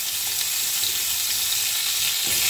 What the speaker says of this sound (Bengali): এর মধ্যে এবার আমি এই যে আলুগুলো দিয়ে দেব, আলুগুলো দিয়ে ভালো করে ভেজে তুলব।